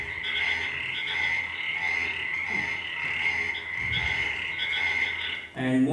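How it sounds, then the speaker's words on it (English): Common burrowing frog (Sphaerotheca breviceps) calling steadily and loudly, a continuous, rapidly pulsed croaking trill filling the whole stretch, with a brief thump near the end and no voice. "Next is the common burrowing frog. This is called Sclerotica braviceps, which has a calling pattern like this."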